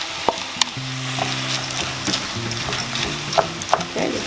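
Split peas stirred into hot oil in a pot, a soft steady sizzle with a few sharp scraping clicks of the spoon and a low hum running underneath.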